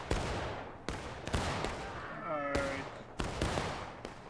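Massed rifle volley fire in a multiplayer war video game set at Bloody Lane, with sharp, loud shots cracking out roughly every half second in an irregular independent-fire rhythm, while a voice calls out between the reports.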